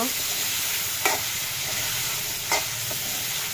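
Tangra fish frying in a light spice masala, a steady close sizzle with two distinct scraping stirs of a spatula against the pan, no talking.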